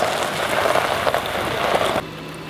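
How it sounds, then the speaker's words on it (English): Heavy hurricane rain pours down in a loud, continuous hiss and drumming nearby, cutting off sharply near the end to a quieter wash. "The rain is coming down harder now, eh?"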